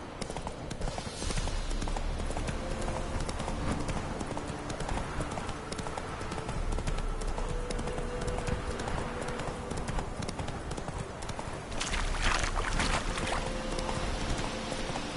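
Hooves of the horse Roach clip-clopping at a gallop in the video game The Witcher III: Wild Hunt, a steady rhythmic run of hoofbeats at moderate level over ambient game sound.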